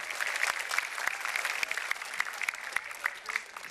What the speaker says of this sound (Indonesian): beri tepuk tangannya meriah untuk Pak Kiai Maman